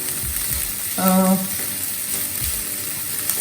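Aloo corn filling for a frankie roll cooks on a high flame with a steady, hissing sizzle. A few soft stirring knocks and a brief tonal hum near the start sit under it.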